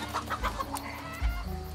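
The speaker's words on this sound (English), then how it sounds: "Goddamn chickens." Chickens in the video game Desperados 3 cluck in short, close, rhythmic bursts with a louder squawk near the end, alone without speech.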